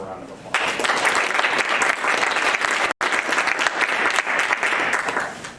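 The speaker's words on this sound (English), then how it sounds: "let's give them one more round of applause" Applause at a school board meeting: a room of people claps steadily and loudly for several seconds, with a brief break before clapping resumes and tapers off.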